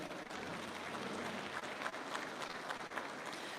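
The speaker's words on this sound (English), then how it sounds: "And I think they deserve a round of applause." An audience at a public lecture in Durban, South Africa gives steady, sustained applause that sounds quite faint and distant throughout, with no clear talking over it.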